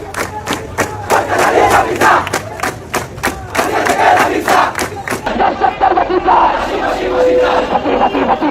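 A large crowd of protesters in Bangladesh chants slogans in loud, rhythmic bursts demanding justice for the killing of Ramisa, with voices massed and continuous close by.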